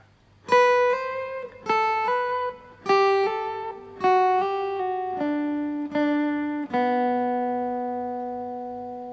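A plucked acoustic guitar picks out the intro melody of a song in single notes, each ringing out clearly, ending on a long sustained note that slowly fades.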